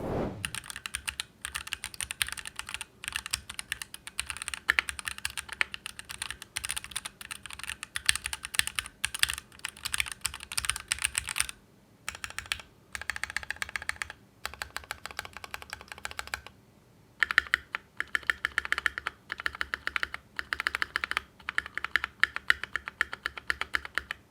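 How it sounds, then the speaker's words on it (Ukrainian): Steady typing on a Keychron Q1 mechanical keyboard with Silver Phantom switches, crisp, rapid keystrokes, close and continuous, with a few brief pauses between bursts. "давайте просто послухаємо тайпінг Q1 на Silver Phantom"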